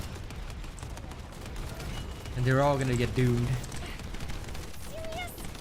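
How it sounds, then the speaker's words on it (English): Rapid automatic gunfire crackles in the background of the video game The First Descendant, a dense fusillade running under a player's excited talking. "I can just pump out as much gunfire as I want"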